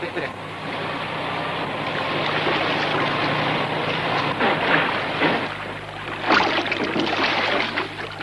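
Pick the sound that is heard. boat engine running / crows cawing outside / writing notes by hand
boat engine running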